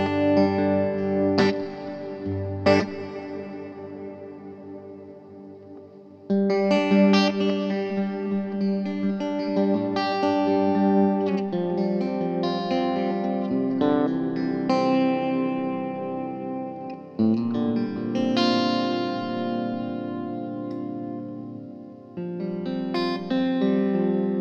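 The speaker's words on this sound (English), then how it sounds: "put it to Hall, and use the same settings as I did just now, so you can hear what kind of a different sound the Hall setting gives you" Guitar run through a Walrus Audio Descent reverb pedal set to hall, with chords and single notes swelling into long, washy tails that blur together throughout, played alone without talking.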